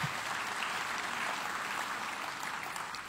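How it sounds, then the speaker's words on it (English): A seated audience at a business talk claps for the speaker's wife. The applause is fairly quiet, even and continuous, and lasts a few seconds. "Please clap for my wife."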